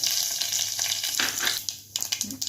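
Half a spoonful of mustard seeds and cumin tempering in hot oil for a stuffed kantola curry: close, bright crackling and spitting in uneven bursts, briefly dipping quieter before popping again, with no voices.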